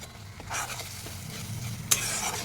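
Poppy seed paste with tomato and green chili being stirred in a hot pan, with soft sizzling under repeated spatula scrapes and one sharp clink near the end.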